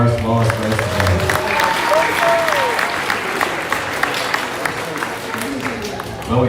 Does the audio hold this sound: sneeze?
no